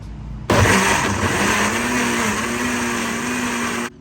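A blender whirs loudly for about three and a half seconds, its motor starting abruptly and holding a steady high whine before cutting off, close by.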